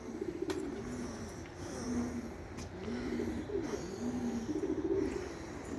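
A pigeon that barely flies sits on top of a coop and gives repeated low, soft coos at moderate distance over a steady outdoor background hum.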